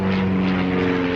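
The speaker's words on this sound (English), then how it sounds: "there's just one super rich dude that's got an aeroplane and he just flies it around every time the sun's out" Steady drone of a light propeller aeroplane passing overhead in quiet countryside, a continuous loud engine hum with strong low harmonics and no speech.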